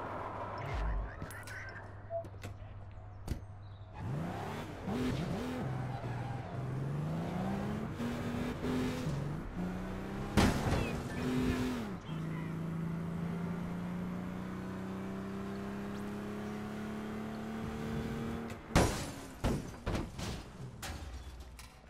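Car driven through checkpoints in the APB Reloaded shooter game, engine revving and shifting pitch up and down across the drive, with sharp impact or door-like bangs at a few points and a steady mid-level drone throughout.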